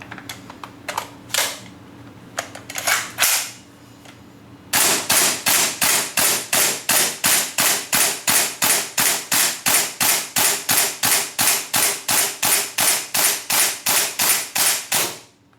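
A WE SCAR-H gas blowback airsoft rifle fires a long, steady string of sharp, evenly spaced shots close by, after a few loose mechanical clicks and handling knocks, with no talking.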